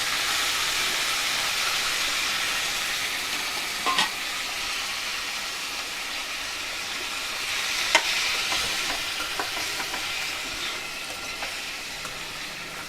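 Tamarind being stirred into a tomato and peanut chutney in a pan, with a steady close sizzle and a few light scraping clinks from the spoon.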